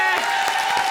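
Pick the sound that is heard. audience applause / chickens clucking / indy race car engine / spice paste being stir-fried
audience applause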